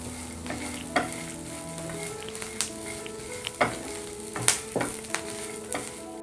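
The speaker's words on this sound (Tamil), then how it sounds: "இப்போ தேங்காய் துருவலும் சேர்த்து ஒரு 2 நிமிஷம் வரைக்கும் வதக்கியிருக்கிறேன் நான்." Grated coconut being sautéed in a pan for a South Indian egg pepper fry masala, with a soft sizzle under a series of sharp spatula clinks and scrapes at an irregular pace.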